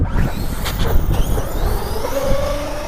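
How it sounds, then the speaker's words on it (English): A car rolls past on a road close by, a loud passing engine and tyre roar that swells and fades while RC trucks wait to race. "Oh, there's a car."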